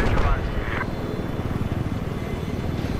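Attack helicopter in the Battlefield 4 video game gives a steady, loud rotor and engine drone with a fast pulsing beat, a brief higher tone early on, no voice clearly heard.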